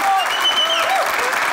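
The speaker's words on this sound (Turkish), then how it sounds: "Makyaj ve kostüm ekibine bir alkış bir kere." A studio audience at a comedy show breaks into steady, dense applause for the crew throughout, with a few voices and cheers mixed in.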